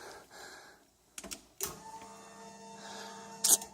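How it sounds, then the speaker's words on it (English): Electric fuel pump on a Pontiac 301 turbo with fuel-injection conversion pressurizing before a cold start: a faint, steady whirring hum following a few sharp clicks, in a quiet space. "that was the fuel pump pressuring up"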